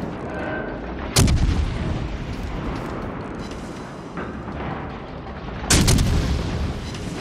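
Warship main guns firing HE shells in World of Warships Legends, two heavy booming salvos about four and a half seconds apart, loud and close, with a quieter thump between them over a constant battle rumble.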